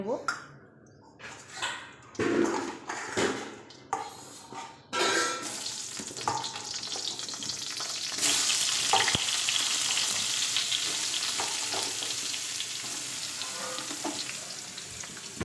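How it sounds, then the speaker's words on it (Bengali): Brinjal pieces hitting hot oil in a kadai, with a few loud bursts of clatter at first, then a continuous close sizzle that grows louder and fuller partway through. "কড়াইয়ে আমি আরও কিছুটা পরিমাণ মতো তেল দিয়ে দিচ্ছি বেগুনগুলো ভেজে"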